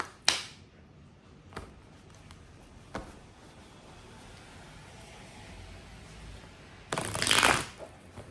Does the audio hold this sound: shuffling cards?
yes